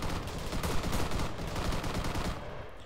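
Rapid, dense gunfire in the military shooter ARMA 3, including sniper rifle shots among a continuous crackling volley of close, loud reports lasting nearly three seconds before tapering off.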